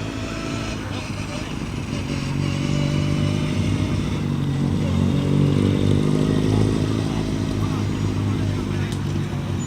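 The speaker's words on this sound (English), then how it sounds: "Straight cut gear wind from the much modified Mini over here." A heavily modified Mini at an evening car show, its engine and straight-cut gearbox droning loudly and steadily close by, with a busy crowd murmuring underneath.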